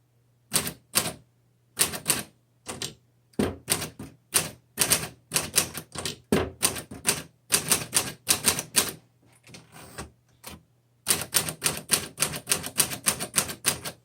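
Rapid mechanical clacking of an old 1938 Corona 1C manual typewriter, keys struck in quick bursts with brief pauses, close and loud.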